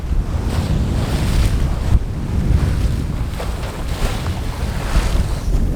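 Wind and waves surround a small sailboat at sea near an anchored vessel, a constant loud rush of wind buffeting the microphone over sloshing surf, with no talking.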